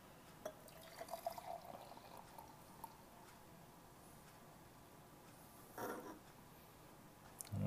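Water is poured onto instant coffee powder in a cup from a Vietnam-era LRP ration, heard as faint, brief splashes and drips with a short louder pour near the end amid quiet room tone.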